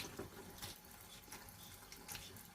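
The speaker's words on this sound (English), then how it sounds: "It's good to put it under running water" Tap water runs steadily into a kitchen sink while potatoes are peeled by hand with a knife, a soft continuous splashing stream with faint knocks and no talking.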